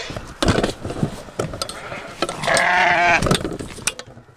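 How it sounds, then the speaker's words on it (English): Several sheep on a homestead bleat loudly and repeatedly as they come in for feed, with a sustained bleat in the middle, alongside clattering metal sounds. "Here come the sheep."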